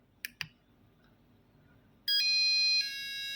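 Two sharp clicks come first, then after a pause Arduino piezo buzzers sound a loud, close, sustained bright electronic tone that shifts pitch partway through as the next buzzer takes over.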